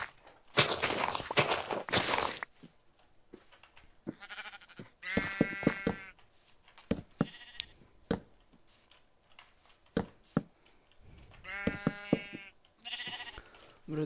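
Sheep in a video game farm pen bleat in two clear, wavering calls, mixed with rapid footsteps, clicks and scattered bursts of movement noise, with no speech.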